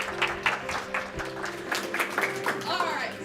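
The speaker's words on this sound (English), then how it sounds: "give yourselves a round of applause." Audience at a computer simulation and gaming conference awards show applauds, a steady mix of claps with a faint tonal hum underneath, moderately loud throughout.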